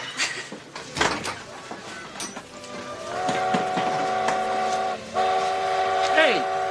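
A train rolls past with rattling clatter, then its horn blares a long, loud sustained chord, with a brief gap before sounding again.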